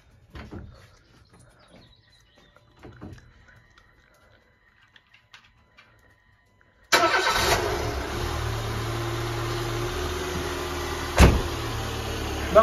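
A Peugeot 206+ with a TU petrol engine starts after a quiet stretch of small handling noises, then settles into a steady, loud idle close by, with a brief sharper burst near the end.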